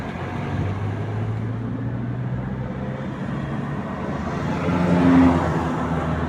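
A car driving with its windows open, with a steady low engine drone and road rush from inside the cabin that swells slightly toward the end, with no talk.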